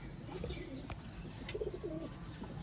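Sialkoti rooftop pigeons coo softly nearby, a few short rolling coos repeating amid light background noise, with no talk.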